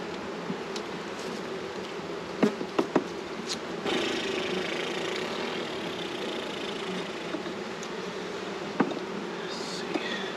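Honey bees hum around an open hive in a steady, close drone, broken by a few sharp knocks and clicks from handling the box.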